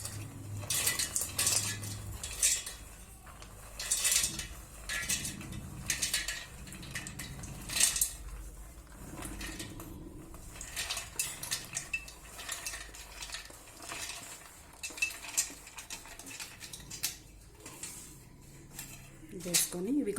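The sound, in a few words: dry fruits being put into a mixer jar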